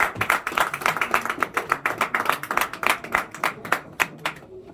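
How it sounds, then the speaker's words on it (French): Audience applause at a community association's election of a new committee, a steady patter of many hands clapping at moderate loudness for about five seconds, with a brief voice near the start. "Nous pouvons l'applaudir."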